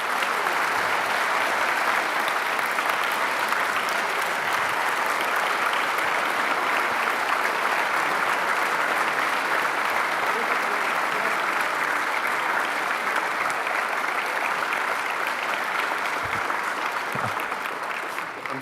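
Sustained audience applause fills a presidential library hall as Supreme Court Justice Neil Gorsuch is welcomed, a steady, dense wash of clapping from a large crowd lasting throughout.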